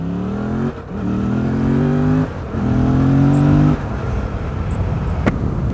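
A Yamaha FZ07 motorcycle pulls away up close, its engine revving in rising climbs through two gear changes before settling into a steadier cruise.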